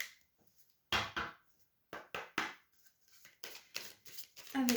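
Tarot cards are covered with oracle cards, giving quiet close card flicks, slides and soft taps in short bursts with pauses between, faint overall.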